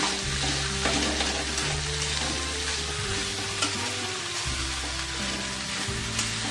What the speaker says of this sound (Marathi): छान परतून घेत आहोत आणि 3 मिनिटं तरी आपण ही परतायला हवी